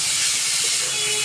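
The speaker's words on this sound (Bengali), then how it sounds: "এবারে ম্যারিনেট করা মাংস আর আলুটা আমি কড়ায় দিয়ে দিচ্ছি।" Marinated chicken and potato pieces dropped into hot oil in a wok give a loud, steady hissing sizzle that fills the whole short moment without letting up.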